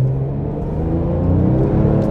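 Porsche 997 GT2 RS, a 2010 manual-gearbox 911 sports car, accelerating hard: a loud, close, rising engine roar and rumble that builds steadily throughout, with no talk.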